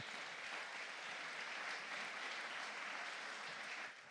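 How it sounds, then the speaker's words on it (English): An audience at the Ars Electronica applauds to welcome about twenty guests, a dense, steady clapping from a crowd that carries on evenly for several seconds before tapering slightly at the end. "give a welcome applause to all the 20 guests here"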